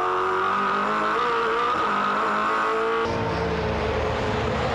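V8 Supercar race cars scream past at Pukekohe Park Raceway, loud engines howling with sweeping pitch as they pass close, one note dropping and giving way to another car's roar.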